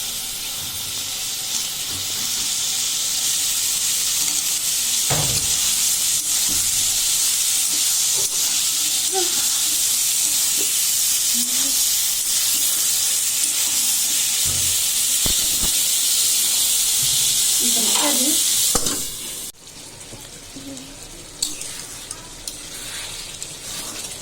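Rohu fish hitting hot oil with cooked-down spices in a pan gives a loud, steady sizzling hiss with a few soft stirring knocks, then the hiss drops away sharply near the end.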